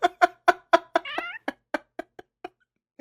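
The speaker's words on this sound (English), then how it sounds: "I'm just watching George light up with the cat noise" A cat meows in a rapid series of short, evenly spaced calls with one longer wavering yowl in the middle, close and clear, then fading into softer chirps.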